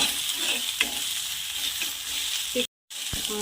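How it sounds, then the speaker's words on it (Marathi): Garam masala, red chili powder and turmeric are stirred into a hot oil tempering for tomato kadhi, giving a continuous close sizzle with occasional spoon knocks and a brief dropout near the end. "थोडा गरम मसाला कोणताही गरम मसाला घेऊ शकता छान मिक्स करायचा आहे"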